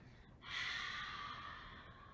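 A long, breathy exhale during a yoga sun salutation forward dive, starting after a short pause and trailing off softly, close and quiet with no talking.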